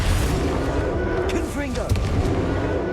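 Booming Bombarda explosion spell blasts in Hogwarts Legacy, a dense continuous roar of magical combat with a muffled thud and sweeping tones partway through, loud throughout.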